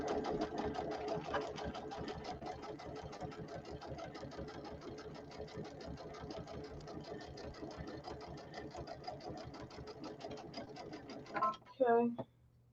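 A sewing machine runs steadily in a fast, even stitching rhythm while chain piecing quilt blocks, close and continuous, then stops with a few clicks and handling sounds at the end.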